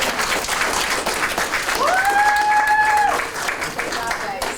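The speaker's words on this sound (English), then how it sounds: "I really think that they really need an applause from us." An audience at a public master plan information meeting applauds the young people, sustained dense clapping from a roomful of people, loud and steady, with a brief voice over it.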